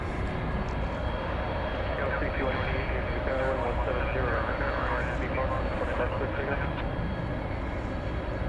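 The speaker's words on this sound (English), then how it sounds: "So here's this 767 off to parts unknown" A Boeing 767-300 jet departs at night from DFW Airport, its engines producing a steady, broad roar that holds throughout at a moderate distance.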